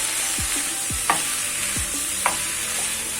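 A spoon stirs a salted stew in a granite cooking pot, giving several distinct scraping strokes against the pot over a low, steady simmering hiss.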